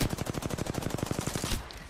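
Automatic weapon fire in the video game Apex Legends, a rapid, evenly spaced burst of about twenty shots, loud and close, stopping abruptly before a short quiet tail.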